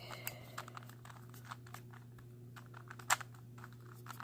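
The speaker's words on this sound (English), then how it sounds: "Let's see what the corner cutting's like." A DaYan 3x3 stickerless Rubik's cube is turned while testing corner cutting, giving quick, sparse clicking and clacking of the layers up close, with one sharper snap partway through over a faint steady hum.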